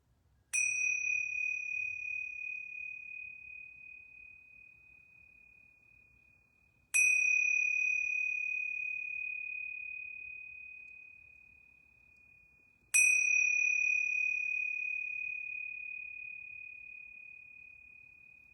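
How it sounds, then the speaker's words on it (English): A yoga bell chimes three times, each clear ring spaced about six seconds apart and left to fade slowly into a soft, sustained tone in an otherwise quiet room. "So I'm going to ring these yoga bells 3 times"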